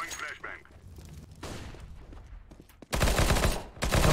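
Bursts of P90 gunfire in an online shooter match, loud rapid automatic fire breaking out near the end over earlier muffled game sounds, with players talking over it.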